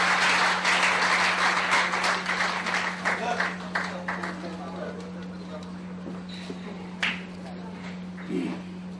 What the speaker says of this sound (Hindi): आपके लिए जोरदार तालियां होनी चाहिए भाई साहब।